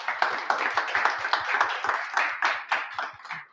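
A small audience at a London Global Azure cloud bootcamp claps together, a dense run of distinct, fairly sharp handclaps in a steady rhythm that keeps going evenly for a few seconds, heard close and moderately loud.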